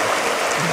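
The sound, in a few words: river stream flowing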